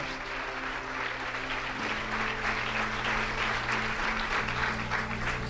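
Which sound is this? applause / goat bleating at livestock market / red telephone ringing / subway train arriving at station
applause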